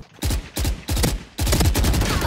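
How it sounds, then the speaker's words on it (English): Gunfire in the video game VALORANT: four loud, close bursts of rapid shots in quick succession, the last burst running longest, with no talking. "I shot him at least 30 times!"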